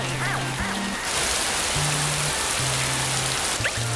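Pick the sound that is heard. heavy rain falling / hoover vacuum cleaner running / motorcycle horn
heavy rain falling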